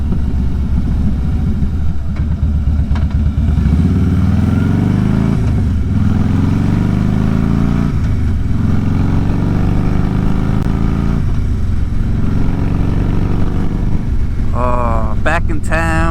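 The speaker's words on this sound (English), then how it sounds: "Back in town, getting to ride my motorcycles." A Harley motorcycle out on a ride around town, its engine rumbling steadily and loud with repeated rises and falls in revs and gear shifts, plus rushing wind throughout.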